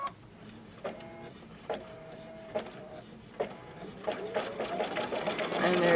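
An embroidery sewing machine stitches appliqué over the edge of a tea towel, giving spaced single-stitch thumps that build into a steadier, louder run of stitching near the end, with some talk in the background.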